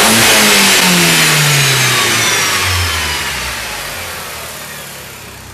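A car engine revs hard as the throttle opens, loud and close, its pitch sliding downward and fading steadily as the revs fall back, with no voices over it.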